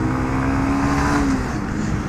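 A truck passes on a road, a loud continuous engine roar with a steady low drone that stays close throughout, no voices.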